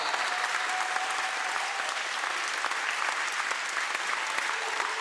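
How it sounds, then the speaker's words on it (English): Crowd applause fills a wheelchair rugby Ashes test match between Australia and England, a dense, steady wash of many hands clapping for about five seconds with no break. "Can we get a big round of applause for the son of the skipper?"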